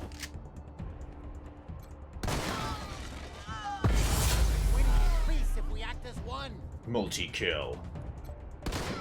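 Gunfire and heavy explosions from a bunker-bust attack in the game Wasteland 3, with loud bursts and a deep boom midway, mixed with a spoken voice and game audio.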